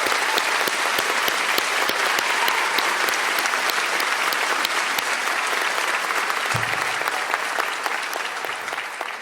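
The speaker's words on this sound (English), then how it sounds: "Round of applause for all the singers." A long round of applause fills a high school graduation ceremony hall, many hands clapping in a dense, steady patter that slowly fades toward the end.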